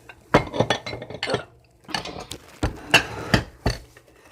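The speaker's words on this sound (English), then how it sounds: "I'm going to stir this really good here" Food stirred in a pot with a utensil, sharp clinks and knocks against the metal coming in irregular bursts, close and fairly loud, with short quiet gaps between strokes.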